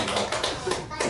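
A church congregation breaks into applause at a year-end testimony service, a dense burst of clapping hands over about a second, with voices speaking over it.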